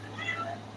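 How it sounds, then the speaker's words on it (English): A pet cat gives a single short, faint meow over a low steady hum, brief and somewhat muffled. "Oh, you hear her? She went meow."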